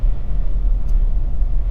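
Low, steady engine rumble inside a Honda CR-V 1.6 i-DTEC diesel as it pulls under acceleration, a dense, close drone without talking.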